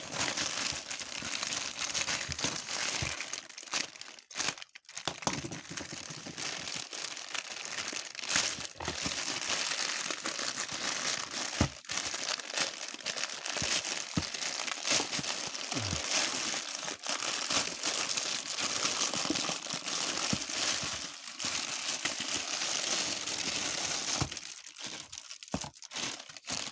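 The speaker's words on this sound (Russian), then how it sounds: "Свіжі посилочки від китайців будемо відкривати." Thin plastic parcels shipped from China are torn open by hand, giving continuous close crinkling and rustling of packaging with occasional sharp tearing and no talk.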